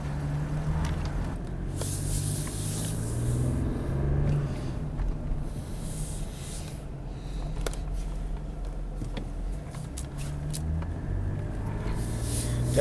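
A 2008 Jeep Grand Cherokee 3.7 with a misfire is driven on the road, heard from inside as a continuous low engine and road drone with occasional hissy swells.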